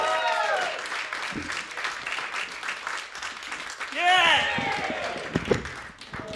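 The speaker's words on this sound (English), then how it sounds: "Whoop and cheer, Americans, and please welcome to the stage, Mr. Si-Deaves." Studio comedy-special audience applauding and cheering to welcome a comedian onto the stage: dense, sustained clapping with whoops and shouted cheers throughout, swelling louder around the middle before easing off.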